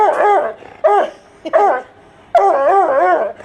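An excited, unneutered four-year-old coonhound mix yowls and whines in a series of four close, loud, wavering bays, eager to play with another dog.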